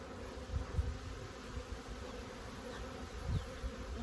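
Bees swarm angrily around a beekeeper in a protective suit and gloves, a dense, steady buzzing that stays close and constant, swelling a little at moments, with no voices.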